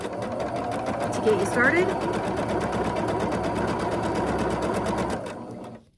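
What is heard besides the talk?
sewing machine stitching on the line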